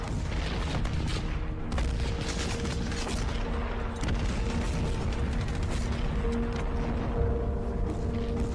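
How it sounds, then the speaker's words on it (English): Artillery fire in a World War II battle rumbles as a dense, continuous barrage of booms and bursts, loud and unbroken throughout with a steady roar underneath. "And that's when the artillery kicked in."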